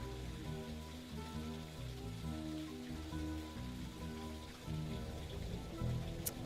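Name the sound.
rain falling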